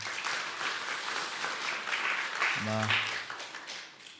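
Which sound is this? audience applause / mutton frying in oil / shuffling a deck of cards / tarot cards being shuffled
audience applause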